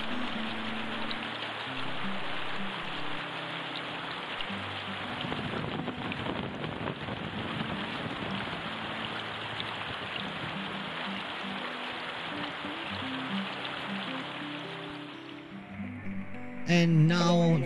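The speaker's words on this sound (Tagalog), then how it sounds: "It's completely running water, so free flow siya." Free-flowing river water rushes steadily at a campsite in Tampisawan, Tanay, Rizal, a continuous broadband wash that holds up for the whole stretch, with a brief brighter burst near the end.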